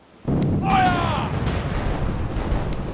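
Ship cannon fire in the pirate video game The Pirate: Caribbean Hunt, a sudden loud boom followed by a sustained rumbling roar with brief whistling tones and a few sharp cracks.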